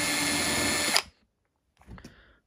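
A cordless screwdriver whirs loudly and steadily for about a second while dismantling a light sign, then stops abruptly, leaving a pause followed by faint clicks and handling noises.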